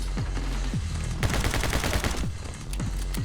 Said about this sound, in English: Ah, it's an Uzi! A different weapon.